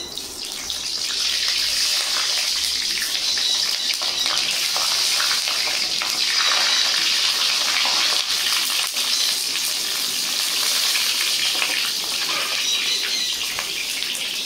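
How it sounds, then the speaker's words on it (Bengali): Brinjal pieces fry in mustard oil in a kadai, a steady close hissing sizzle that runs evenly throughout with no talk. "সর্ষের তেলে বেগুন দিয়ে দেবো, বেগুন ভেজে নেবো।"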